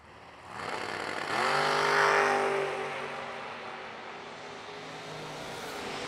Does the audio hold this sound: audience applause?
no